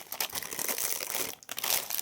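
Crinkling plastic snack bag being torn open, a continuous close, loud rustle and crackle of wrapper plastic with a brief dip before the crinkling resumes.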